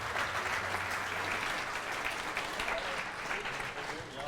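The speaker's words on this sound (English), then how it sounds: "applause for the new Sauber" Audience applause for the unveiling of the new Sauber C32-Ferrari Formula One car at a team presentation, a dense, steady wash of clapping from a crowd that holds evenly for several seconds before easing slightly at the end.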